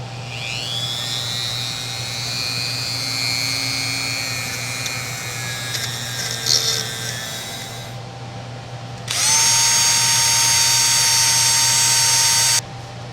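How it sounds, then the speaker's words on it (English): A rotary power tool cleans the inside of a Plomb three-quarter-inch socket. It gives a steady, close, high-pitched whine, then a louder and harsher burst near the end before it stops. "let me clean up the inside a little bit"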